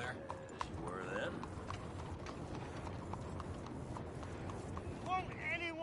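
Horse hooves clip-clop steadily on a town street in the video game Red Dead Redemption, a continuous mid-distance rhythm beneath scattered voices of townsfolk talking.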